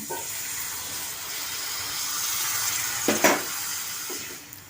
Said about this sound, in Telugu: కొంచెం వాటర్ యాడ్ చేస్తున్నానండి